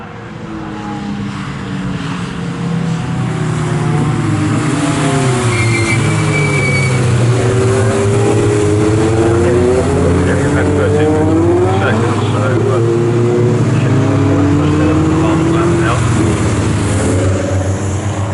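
750MC Sport Specials race cars lapping Snetterton circuit, a loud engine roar rising and falling in pitch as cars pass close by, sustained throughout under a commentator talking.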